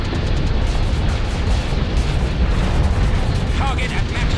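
Starship weapons fire and explosions from the space combat game Starsector pound continuously as a loud, dense barrage of booms and bursts with a heavy low rumble throughout.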